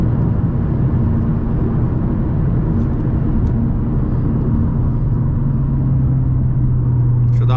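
A VW Up TSI with a Stage 4 tuned turbo engine pulls in third gear around 3,000 RPM, giving a loud, steady in-cabin drone and rumble that holds throughout with a slight rise near the end.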